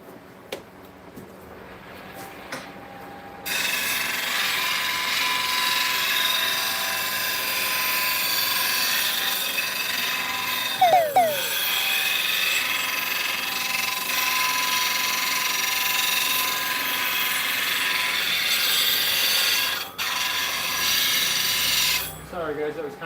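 Retaping, or sharpening, a woodturning bowl gouge on a grinder gives a loud, steady high-pitched whine that runs for about twenty seconds, with brief scraping bursts in the middle and no talk over it.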